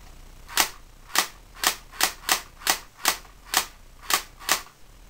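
A G36 airsoft rifle fires single shots, eleven sharp snapping pops spaced roughly half a second apart, close and clear with no voices.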